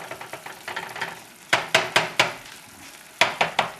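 Onions for hot dogs cooking in a pan over a moderate flame, with a soft sizzle under a run of sharp, evenly spaced clacks and scrapes from stirring, loud and close, pausing briefly midway.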